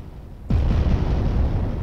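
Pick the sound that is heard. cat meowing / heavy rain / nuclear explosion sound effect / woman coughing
nuclear explosion sound effect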